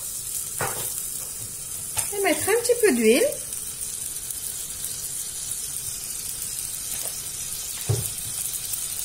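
Butter melts and sizzles steadily in a saucepan with a brief scraping stir; a voice speaks briefly in French over the frying.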